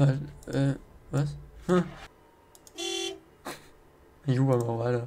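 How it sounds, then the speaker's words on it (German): Car horn honking in the video game Lost Night, a single sustained toot sounding mid-clip between bursts of someone talking. "Ich hupe mal weiter."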